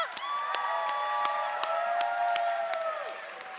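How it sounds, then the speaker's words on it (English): Applause and cheering from a crowd at a live political rally, steady clapping with a few sharp whoops, fairly close and filling the whole stretch before tapering slightly. "Can we have another round of applause for Vanessa?"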